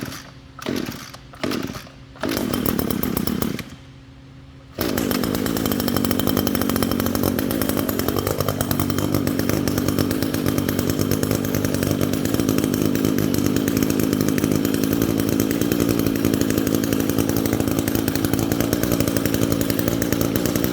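Echo GT225 string trimmer, eleven years old and freshly tuned up: a few short pull-start bursts, then the two-stroke engine catches and runs steadily and loudly nearby, with a brief rev partway through.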